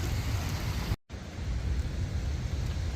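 Rain falling outdoors in St. Paul, Minnesota, near the Robert Street lift bridge, a steady, even wash of hiss that cuts out for a moment before resuming.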